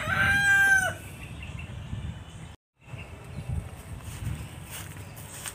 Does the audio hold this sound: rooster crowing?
yes